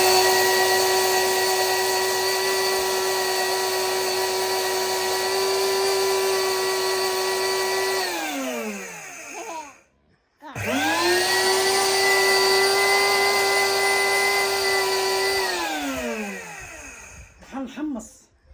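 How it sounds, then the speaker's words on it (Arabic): An electric grinder pulverises spices for holiday preparations. Its loud, high-pitched whine holds steady for several seconds, winds down, goes briefly silent, then starts again and winds down a second time. "صافي دابا الطحنه الثانيه هذه"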